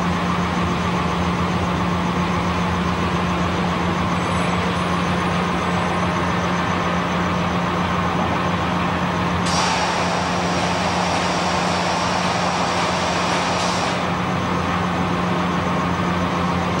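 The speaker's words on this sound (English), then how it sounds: "Trains such as this will block up dozens of road crossings as they cut across the centre of Salt Lake City." A Union Pacific freight train rolls through Salt Lake City, a loud, continuous low rumble and drone that holds steady throughout, with a brief higher-pitched squeal partway through and no voices.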